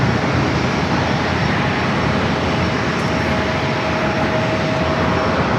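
Challenger 300 business jet at San Diego airport, its engines producing a loud, steady broadband roar with a thin whining tone, close by and continuous throughout.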